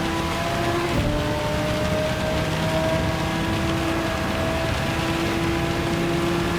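Heavy rain pelts down during a Gran Turismo 7 manufacturer cup race, a dense, steady roar of water noise blended with the continuous tonal hum of car engines, loud and unbroken throughout.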